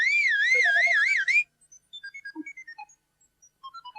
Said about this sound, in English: And he gave a loud whistle.